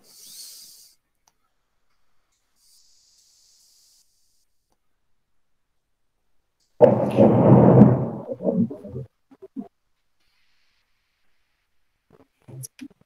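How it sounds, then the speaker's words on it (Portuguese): One loud burst of thunder rumbles for about two seconds in an otherwise near-silent room, trailing off into a few softer crackles, with faint stray noises before and after. "Esperar passar o trovão, daí eu já falo"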